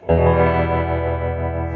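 An electric guitar chord rings out through a 1971 Fender Princeton amp, its sustained tone pulsing deeply and steadily with tremolo intensity turned all the way up.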